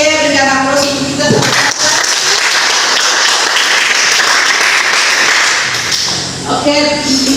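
Students in a high school classroom in Manokwari break into sustained clapping that swells and then fades, with voices briefly heard at the start and end.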